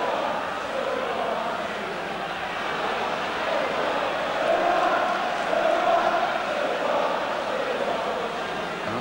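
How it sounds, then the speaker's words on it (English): Arsenal supporters in a packed football stadium chant together in a steady, distant roar that stays even and sustained throughout, with no close voices. "Arsenal crowd reminding us of the score"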